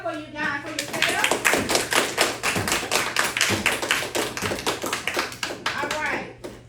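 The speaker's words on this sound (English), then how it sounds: "clap it up for you guys, for yourself." Students clap together in a classroom, a quick run of sharp, close hand claps at a steady rhythm that holds for several seconds before tapering off, with a few voices mixed in.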